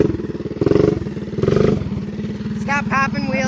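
A Motovox minibike with a Predator 212cc engine runs nearby with a steady low putter and rising revs, and excited voices talk over the engine noise.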